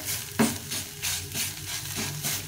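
Grated bottle gourd being fried in a pan to dry out its water, a steady close sizzle with rhythmic scraping strokes of a spatula stirring about every half second.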